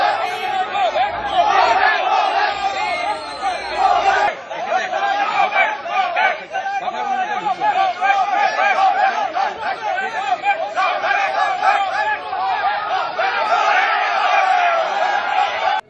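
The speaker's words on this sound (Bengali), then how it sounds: "তাকে ঘিরে গো ব্যাক স্লোগান তৃণমূল" Trinamool workers and supporters chanting 'go back' slogans at a protest surrounding Amrita Roy, Rajmata of the Krishnanagar Rajbari: a loud, dense crowd of voices shouts and chants continuously, with rowdy chatter throughout.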